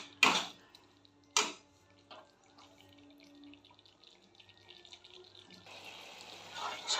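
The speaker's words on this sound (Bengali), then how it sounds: "একটু ফুটে গেলে আমি এর মধ্যে জল দিয়ে দেব" Water pours into a cooking pan of rui fish simmering in coconut milk, a soft running wash that builds near the end after two sharp clatters at the start; no one talks.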